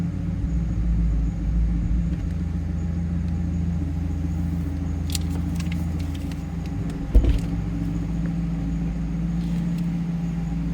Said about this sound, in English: that was a cold start, so I wouldn't expect temp gauge to be up much